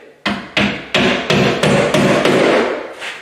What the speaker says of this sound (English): So we're nailing it through the drywall into the wood frame.